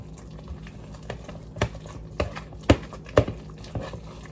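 Buffalo chicken dip being stirred in a pot, a soft wet squelching with irregular spoon knocks against the side, close and fairly quiet.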